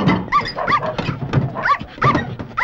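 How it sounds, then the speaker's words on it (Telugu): A furry pet dog barks and whimpers up close in a rapid run of yips, yelps and whines, loud and continuous throughout. "బొచ్చు కుక్క ఒకటి ఉంది, ఉండండి చెప్తా."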